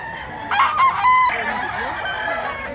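Rooster crowing nearby among kept chickens, one loud drawn-out call with a rising and falling tone lasting about two seconds, with some faint fowl sounds in the background.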